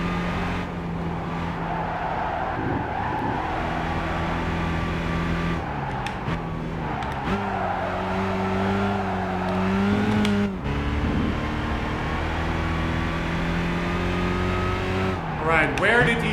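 A race car laps the Nürburgring in Gran Turismo 5, its engine droning steadily, rising and falling with gear changes and brief tire squeal, while someone talks over the game sound.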